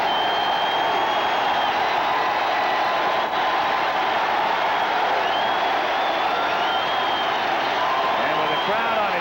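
Baseball stadium crowd at a 1985 Expos–Mets game in New York, a steady, loud roar of cheering and applause sustained throughout with faint whoops, a broadcaster's voice riding over it.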